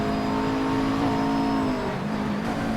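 A McLaren race car in the simGT racing game at Road Atlanta holds a loud, steady engine drone with pitch dipping and shifting through gear changes, continuous and close.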